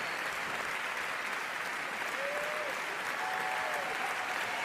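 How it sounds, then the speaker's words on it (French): Sustained audience applause fills a hall at a circus festival medal presentation, a dense, even roar of clapping from a large crowd, with faint whistled tones rising briefly above it. "Je vous demande d'applaudir le président Alain Pachery"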